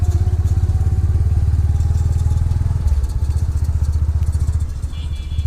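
A motorcycle engine idles close by at a roadside as the bike is parked: a loud, rapid, even thumping pulse that holds steady, shifts slightly midway and fades down near the end, with no speech.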